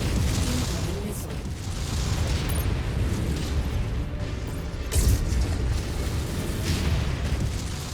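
Missile explosions in the MechWarrior 5 video game rumble as a dense, continuous low-end roar, with a sharper blast near the middle amid mechanical clanking and a synthetic voice.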